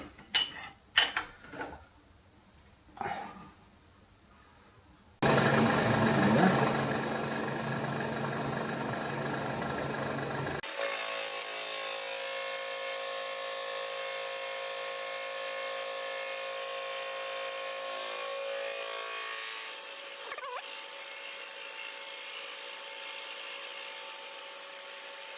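Machining the ends off a metal tool post holder: a few sharp clinks and knocks give way to a loud burst of cutting, then the machine's steady whirring hum runs on alone.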